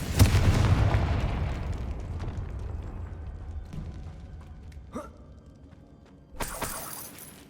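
A Confringo fire spell explodes in the Hogwarts Legacy video game, a loud burst at the start that decays into a crackling rumble, followed by a couple of quieter pops and a second sharp blast near the end.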